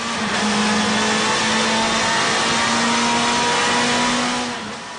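Suzuki Discovery Turbo motorcycle engine holds a loud, sustained high rev on a test rig, a steady droning whine with the pitch slightly climbing, then easing off in the last moment.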